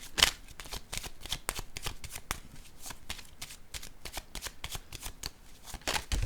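Tarot cards are shuffled and handled in a steady run of crisp, papery riffles and slaps, close and fairly quiet, with a louder burst at the start and again near the end.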